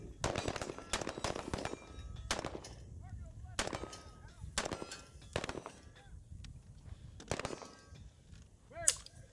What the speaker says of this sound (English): this is an amateur video watching the entire firing line as they're shooting